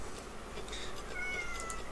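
A cat meows a few times, fairly close, short high-pitched calls over a quiet room hum.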